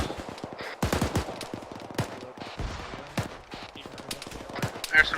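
Scattered gunshots crack in from a distance during a military field training exercise, irregular single reports and short bursts mixed with outdoor noise and some voices.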